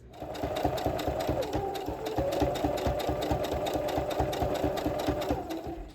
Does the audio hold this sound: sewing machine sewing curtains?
yes